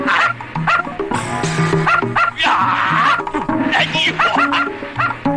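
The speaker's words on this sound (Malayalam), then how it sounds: "പട്ടി പട്ടി." A dog in a Malayalam comedy film scene barks loudly and repeatedly in quick, yipping bursts, close and dominant, with some excited whimpering between barks.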